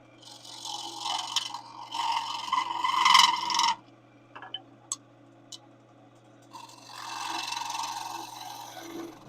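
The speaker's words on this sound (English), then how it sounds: "And then the sidewall scraper." A sidewall scraper cuts into wood spinning on a lathe, giving rough, rasping scrapes in two bursts with a few sharp ticks between them, then a softer scraping passage at the end.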